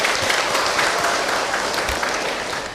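An audience at an Islamic religious talk breaks into steady, dense applause, loud and continuous throughout before tapering slightly at the end, with no speech over it.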